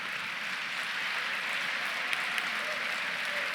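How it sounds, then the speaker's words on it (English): Audience at an awards breakfast honoring women in transportation applauds the honorees, a steady wash of clapping from a crowded room, even and sustained. "Please give another round of applause for our 12th class of Women Who Move the Nation."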